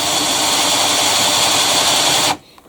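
A power drill with a spade flat bit bores a hole, a loud, steady motor whine running continuously for over two seconds before stopping abruptly, leaving faint quiet clicks.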